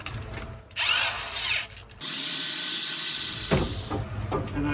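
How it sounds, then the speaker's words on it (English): A power drill with a bad bit bores into wood while a fence is built for concrete foundation work, giving loud whining bursts of varying length with short pauses between them, close by and with no voices. "And I got a bad drill bit."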